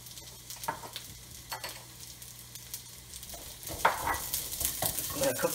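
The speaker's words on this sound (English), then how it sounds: "I'm going to cook the onions for quite a bit here until it turns translucent." Onions sizzle in oil in a pan for moo shu pork, a steady close frying hiss broken by scraping stirs that grow busier and louder toward the end.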